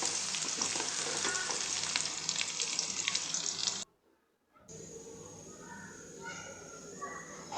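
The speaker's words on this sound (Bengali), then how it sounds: "এখন আমি এই মশলাগুলোকে ভালোভাবে তেলে ভেজে নেব।" Spices and green chillies frying in hot oil make a bright, constant sizzle up close, cut by a sudden brief silence, then a quieter hiss returns.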